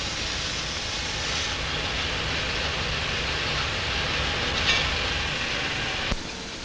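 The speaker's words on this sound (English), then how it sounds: "The first trial hours are spent running the new locomotive against resistance." A ČKD CME3 diesel locomotive running under load against a resistance during a running-in test, a loud, steady broadband roar with a constant engine drone and a couple of brief clanks near the end.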